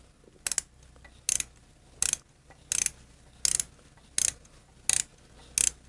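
A ratchet turns a 12-point 1/4-inch socket on the screws of Shovelhead lifter blocks, giving eight evenly spaced, crisp bursts of close clicking with quiet gaps between them.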